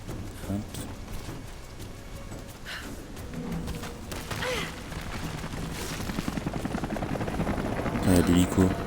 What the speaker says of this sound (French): Ah, l'hélico.